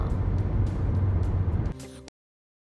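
A car drives along mountain roads in the Smoky Mountains of Tennessee, with a loud, steady low road rumble that drops away abruptly before the sound cuts off.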